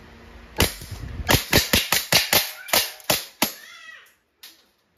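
An Umarex Glock 17 Gen 3 Deluxe CO2 airsoft pistol fires plastic BBs up close: about nine sharp, loud cracks in a quick, slightly uneven string, then a short pause and one softer click.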